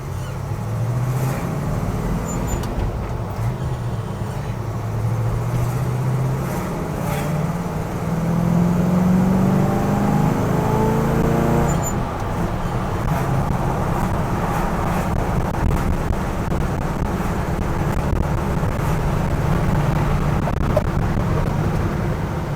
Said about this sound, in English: We're rolling. We're doing about 65 miles an hour right now.